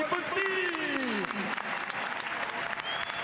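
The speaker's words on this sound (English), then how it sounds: "what a cheer this man is about to get here this evening" Crowd at an evening show jumping grand prix in Lyon cheers and applauds as a rider enters, a broad sustained roar under a commentator's voice, with whistles sliding through.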